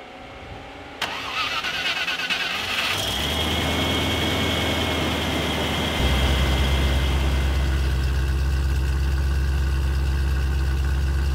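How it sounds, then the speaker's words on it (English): A Land Rover Discovery's Rover V8 engine turns over and catches on a cold start, the starter whirring for a couple of seconds before the engine fires and settles into a loud, steady idle that deepens slightly midway. "what do you reckon? Cold start time?"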